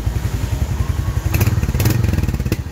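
A Royal Enfield Hunter 350 motorcycle with a Euro 5 exhaust idles close by, its single-cylinder thump pulsing in a quick, even rhythm, with a few louder clattery blips near the end.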